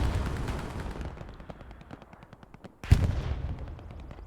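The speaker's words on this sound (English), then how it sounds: "Artillery for both teams are here." Artillery and small-arms fire in the World War II shooter game Hell Let Loose, on the Sainte-Mère-Église map: a dense crackle of rapid gunfire, then a sudden heavy blast near the end followed by more loud, rumbling fire.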